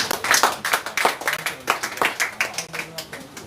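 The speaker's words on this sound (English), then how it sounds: "Clap for yourselves." An audience at a press conference claps continuously in dense, fairly close applause that gradually thins out.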